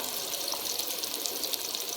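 Boiled water poured onto a kilo of rice in a pot: a steady, continuous rushing pour, close and loud, with no voices.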